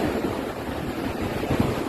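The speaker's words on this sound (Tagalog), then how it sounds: "Inaabot ng alon." Sea waves wash up the shore at Santa, Quezon, Ilocos Sur, a steady broadband surf wash with a slight swell near the end, mixed with wind noise and no talking.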